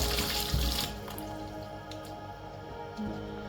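Tap water runs into a basin while cabbage and other ingredients are washed by hand, a steady soft splashing with occasional louder sloshes and drips, close and fairly quiet.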